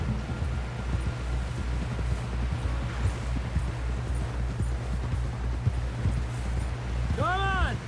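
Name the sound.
horse galloping, Red Dead Redemption 2 video game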